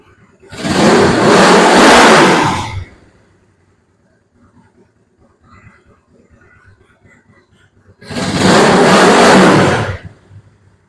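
A Honda CB360 motorcycle engine with the choke fully off roars through two loud throttle bursts, each lasting a couple of seconds, separated by a long stretch of quiet, low idle.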